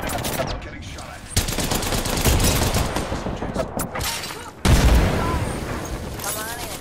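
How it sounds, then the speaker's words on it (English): Gunfire in an Apex Legends match: dense, rapid bursts of automatic weapon fire crackle almost continuously, loud and close, with a brief gap before another heavy volley, while a voice speaks over the shooting. "Getting shot at."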